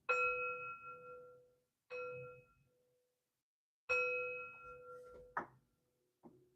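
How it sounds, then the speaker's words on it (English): Three ringing metal chimes struck one after another, each tone sustaining and slowly fading, followed by a couple of lighter metallic clinks, heard alone in a quiet room. "Three chimes to bring in positive energy."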